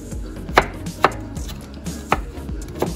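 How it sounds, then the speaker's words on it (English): A knife chops food into small pieces on a board while preparing a beef Wellington: four sharp, separate cuts land about half a second to a second apart, close and clear over a low kitchen background. "He's just going to chop it up into small little bits."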